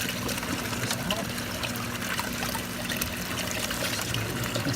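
Water trickles steadily from an aquarium into a cup through a self-filtering cyano scrubber setup, a continuous close dribbling wash with a faint hum beneath.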